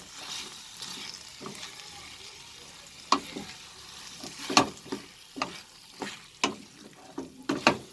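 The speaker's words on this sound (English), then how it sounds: "I will add the cubed potatoes to this recipe. We'll mix it with the spices." Cubed potatoes being stirred into spiced masala in an oily pan for a cabbage potato curry, with a soft steady sizzle beneath and sharp scraping clinks of the spoon that come more often in the second half.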